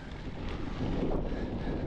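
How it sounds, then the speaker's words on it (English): Steady strong wind buffeting the microphone during a gravel bike race course ride in Portola, California, a continuous low roar with no gaps and no voices. "Quite windy, which is taking a toll on me"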